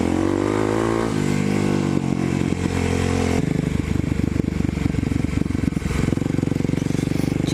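A Kawasaki KLX dirt bike engine drones loud and close while riding off-road, its pitch shifting with the throttle as it revs and rumbles over rough ground, with rattling clatter throughout.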